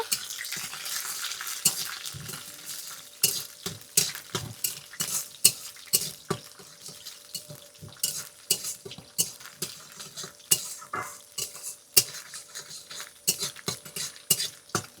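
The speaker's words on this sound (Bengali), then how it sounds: "এবার রসুনটাকে আস্তে করে হালকা হালকা করে ভেজে নেব।" Garlic fries gently in a pan with nigella seeds while a utensil stirs it. A soft, steady sizzle runs underneath as repeated scraping and clinking strokes come close and clear at an irregular, busy rhythm, and no one speaks.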